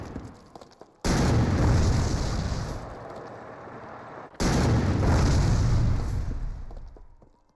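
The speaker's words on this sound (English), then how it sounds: "Bulge and his wingman fire 3 rounds into it" Tank guns fire rounds at a German defensive line on the road to Bastogne during the Battle of the Bulge: two loud, booming blasts a few seconds apart, each with a long rumbling decay.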